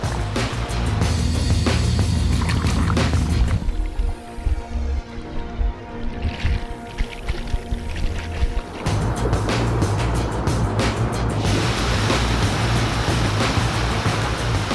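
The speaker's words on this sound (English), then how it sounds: "we had a few more river crossings" An Iveco 4x4 churns loudly through a Turon River crossing on a track near Lithgow, with a steady engine roar, water rushing and splashing around the vehicle, and a brief quieter dip before the surge returns.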